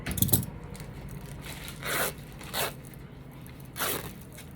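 Scissors cutting fabric or craft material for a handmade Halloween pumpkin head doll, a handful of short rasping cuts spaced a second or so apart after a brief handling rustle, close and quiet, no talking.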